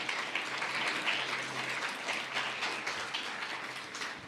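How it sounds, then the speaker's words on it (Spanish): Audience applause in a church gathering, steady and fairly full, lasting throughout without a break, with a low constant hum underneath. "¿Por qué no le das un fuerte aplauso a Dios en esta tarde?"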